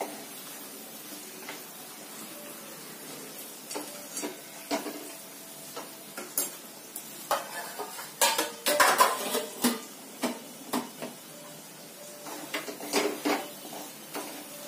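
Masala spices fried in oil in a pan while being stirred, with scattered clinks and scrapes of a spoon against the pan over a faint sizzle, irregular and fairly quiet.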